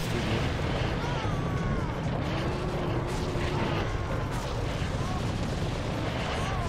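Continuous explosions rumble through a chaotic Serious Sam HD The Second Encounter firefight, a dense, loud low-frequency roar with sweeping whistling tones on top, unbroken for several seconds.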